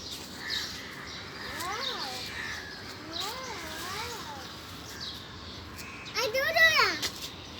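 Crows caw around mango and jamun trees seen from a rooftop. Several scattered calls come in short bursts, and a louder cluster arrives near the end over soft background sound.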